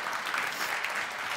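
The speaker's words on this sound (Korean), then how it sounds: "갬퍼에게 박수 부탁드리겠습니다" Audience applause at a startup demo day after a team's presentation, a steady dense wash of many hands clapping throughout, fairly loud and even.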